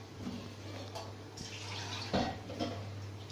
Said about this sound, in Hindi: अद्धा कप फ्रेंड्स मैं पानी होर पा रही है दाल दे विच।